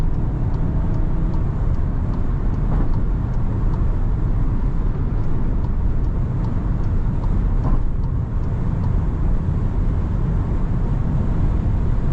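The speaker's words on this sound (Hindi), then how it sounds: "तुम्हें मजा आ रहा है गाड़ी ये देख के" VW Tiguan 2.0 Elegance 2024 driving on a busy highway, a steady close road roar and engine hum with passing traffic swishes and no voices.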